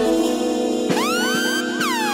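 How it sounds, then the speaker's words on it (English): A loud wailing siren sweeps up and down in pitch, close and continuous, with no voices. "Let's get the sirens going for this."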